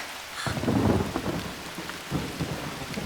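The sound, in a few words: rain with thunder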